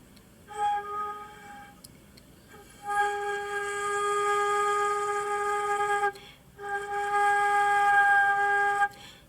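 A danso, the Korean bamboo flute, sounds the note jung with all holes but the last covered, in a few breathy sustained tones separated by short gaps, with airy noise around the pitch and no talk.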